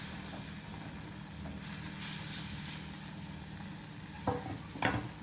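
Prawns sizzle and frying in a pan as they are stirred, a steady hiss with a couple of brief scraping clatters of the spoon near the end.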